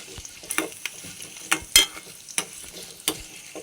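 Tempering of seeds and spices for tamarind rice sizzles in oil, a soft continuous crackle. Intermittent close scraping and stirring clicks of a spoon against the pan come through it.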